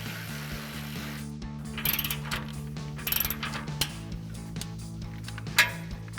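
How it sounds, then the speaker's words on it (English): Ratchet with an 18 mm socket tightening a bolt on a RAM 1500 tubular front bumper, a series of quick clicking ratchet bursts with a few metallic clanks, close and clear over a low background hum. "tighten this down with our 18 mil socket"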